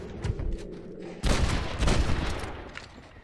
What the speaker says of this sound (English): So I'm getting shot up right here.